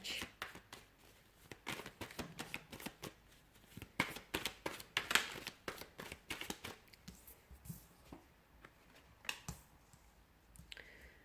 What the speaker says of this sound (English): So we'll give the cards a shuffle and see what's coming in.